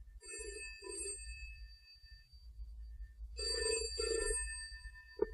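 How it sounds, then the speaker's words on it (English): A telephone bell rings in two double bursts separated by a pause, loud and close, with a low hum underneath, as a sound effect in an audiobook drama. "Answer the phone."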